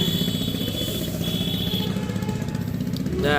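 A second-hand Bajaj Discover 125 motorcycle runs at a steady idle close by, a loud, continuous engine chug with a slight rev rise near the end; no speech.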